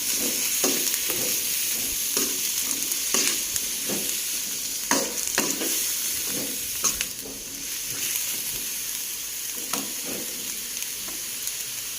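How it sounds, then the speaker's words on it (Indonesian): Chayote squash sautéed in a pan until wilted, with steady sizzling oil under repeated scraping and stirring strokes of a spatula at close range, no talking. "Kita tumis hingga layu ya Bunda ya."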